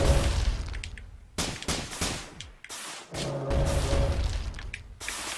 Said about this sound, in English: Missile launchers, not cool.